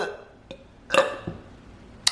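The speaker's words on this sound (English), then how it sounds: "I just burped." A single short, close burp rises out of a quiet room, with a few faint clicks and taps around it and a sharp click near the end.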